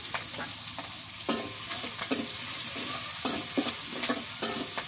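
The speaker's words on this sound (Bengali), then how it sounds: "এই তেলের মধ্যে কাঁচা মরিচ দিয়ে দিন। পেঁয়াজ কুচি দিয়ে দিই।" Green chilies and chopped onion fry in hot oil with a steady broadband sizzle, broken by several sharp scraping stirs of a spatula against the pan; no voices.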